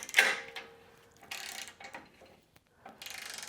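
A Quinn 3/8-inch digital torque wrench clicks through short ratcheting bursts while applying torque, quiet and close, with pauses between the clicks.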